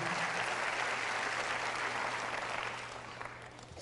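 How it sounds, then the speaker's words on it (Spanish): Steady, dense applause from a church congregation praising God during a Catholic service led by Padre Bernardo Moncada, a broad even wash of many hands that holds for several seconds, then fades gently toward the end. "Dale ese fuerte aplauso al Rey de Reyes"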